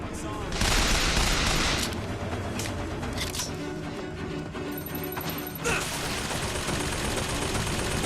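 Bursts of gunfire from the Bioshock Infinite video game crackle in rapid volleys, loud at first and then continuing as scattered shots over a busy game soundscape.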